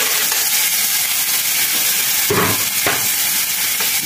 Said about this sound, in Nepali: लसुन मजाले भुट्ने